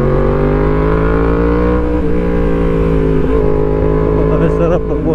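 A motorcycle ridden solo through Bukidnon, its engine humming steadily at a close, loud level with a smooth, even drone. Gear pitch shifts slightly partway through while wind rushes underneath.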